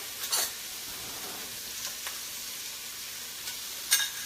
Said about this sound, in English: All right, look at that bacon cooking up.